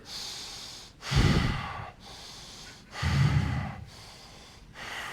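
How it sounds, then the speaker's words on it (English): Two slow cycles of breathing in and out through the nose during a breathing exercise, each a soft airy draw followed by a louder, rougher exhale, close and alone. "put it over your mouth, and I want you to breathe in and out with your nose 3 times like this"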